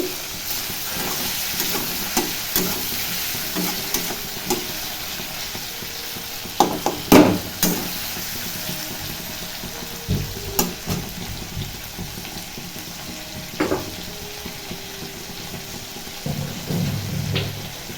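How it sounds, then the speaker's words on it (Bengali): Shrimp sizzling in a hot pan, a continuous close hiss broken by louder scraping bursts as the pieces are stirred and turned. "চিংড়ি মাছগুলো একটু ভেজে নিই।"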